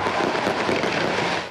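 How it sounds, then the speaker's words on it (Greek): Fireworks burst over the Sydney Opera House at the opening of the Vivid Sydney light festival. They make a dense, steady crackling roar with no clear gaps, heard from a distance, with no voices. "Το μεγαλύτερο φεστιβάλ φωτός στον κόσμο, το Vivid Sydney, ξεκίνησε με πυροτεχνήματα πάνω από την όπερα του Σίδνεϊ."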